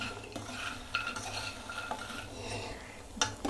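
A spoon stirs and mixes a taro root (chamagadda) mixture in a bowl, with soft continuous scraping and occasional sharper clinks against the dish, close and alone.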